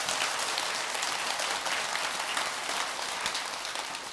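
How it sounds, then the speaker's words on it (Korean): Sustained applause from a large audience at a Buddhist dharma lecture in a temple hall, steady and dense clapping throughout without any voices. "박수 한번 크게."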